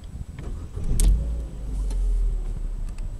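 A Vauxhall Astra LPG dual-fuel car starts up on petrol, with a starter crank burst followed by the engine settling into a steady idle close by.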